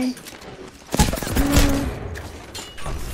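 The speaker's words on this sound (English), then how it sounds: "So many nades!" Grenades burst in a multiplayer shooter game, several sharp blasts in quick succession amid scattered gunfire, with a player's voice talking over the action.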